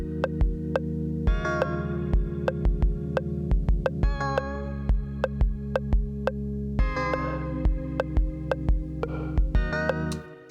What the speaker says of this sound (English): at the moment, I've just got this really basic piece of music loaded up that I've created